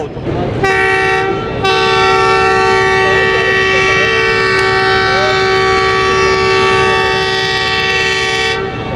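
An express train's horn blares long and loud at a station before departure, holding one steady tone for most of the stretch after a brief opening burst, with station rumble underneath.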